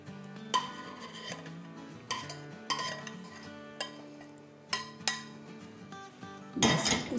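Pineapple brittle is poured and scraped from a pan onto wax paper laid on a cutting board, giving clinks and metallic scrapes of utensils and cookware at irregular intervals, with a louder scraping burst at the end.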